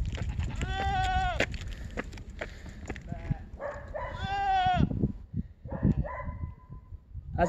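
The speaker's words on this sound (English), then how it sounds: "That's a real goat." A goat outdoors gives two long, wavering bleats, close and clear, with a few shorter calls and scattered rustling between them.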